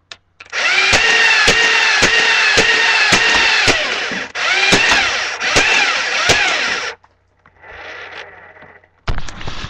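A Dart Tag Speedswarm motorized dart blaster whirs loudly in long bursts, its motor spinning up and staying on while individual darts crack off in a steady, fairly slow rhythm, followed by shorter, quieter motor runs.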